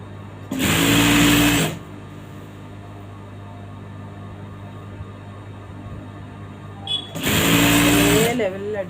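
A sewing machine top stitching fabric with a lining, two short loud bursts of fast whirring stitching separated by a quiet pause, with a person talking in between.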